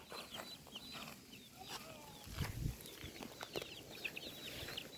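Small chickens clucking and peeping around a farmyard, with repeated short calls scattered over soft background noise and a few faint thumps.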